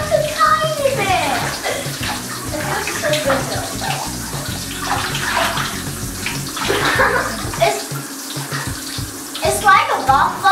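Water running and splashing in a bathtub, with children talking and playing throughout over the steady rush.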